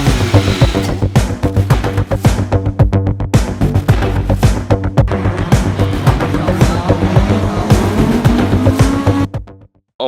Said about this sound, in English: This is a little drift car for the streets.